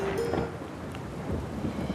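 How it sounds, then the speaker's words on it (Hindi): Rain falling in a forest with a low rumble of thunder, steady and moderately loud throughout with a gusty, windy wash and no voices. "जंगल में बारिश होने लगती है"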